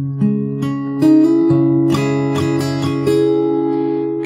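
Acoustic guitar plays the bridge of a song, ringing chords strummed and picked in a steady rhythm, close and clear with no voice.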